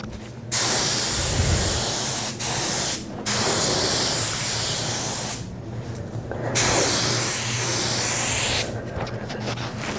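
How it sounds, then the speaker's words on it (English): Lacquer hisses from a spray gun onto a sealed kitchen cabinet panel in long, loud, steady bursts separated by brief pauses. "Watch the color shift as we spray it."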